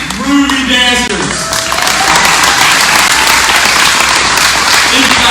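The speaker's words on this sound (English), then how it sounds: "One last round of applause for 4 amazing groovy dancers." Audience applause and cheering for four dancers at the CCS Blue and Golden Globes 2020 event, loud, dense and sustained across the whole stretch, with a voice briefly audible at the start.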